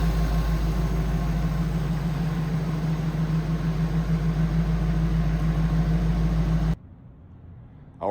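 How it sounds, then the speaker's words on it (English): A 1930 Ford Model A sedan street rod with its hood open idles steadily and loudly up close, a smooth continuous engine rumble that cuts off abruptly near the end. "Car starts right up. Nice idle."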